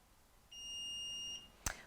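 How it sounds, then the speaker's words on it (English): A foil press heat timer beeps once when done, a single clear electronic tone lasting under a second, followed by a short clatter, in a quiet room with no voices. "Once it's beeped, it's ready for us."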